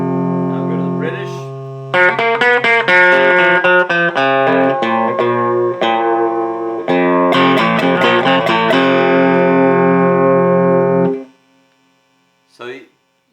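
Electric guitar fitted with a Flatpup-style pickup, played through the British channel of an amp, loud chords and picked notes with a brief pause, then ringing out and cutting to silence before a short faint pluck.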